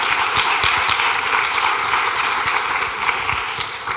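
Applause from an audience after a presentation on revising policies at a support services organisation, a brisk, fairly close patter of many hands clapping steadily throughout without any talking.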